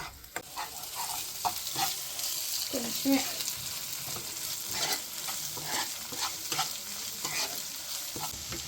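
Sliced onions and masala fry in a pot for a dum biryani-style dish, giving a steady close sizzle broken by repeated scraping strokes of a spoon stirring through the pan.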